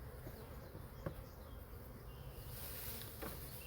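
Honey bees swarm around an opened hive as a frame is lifted, a low, steady buzz filling the air at moderate distance, with one or two sharper, closer passes standing out against the drone.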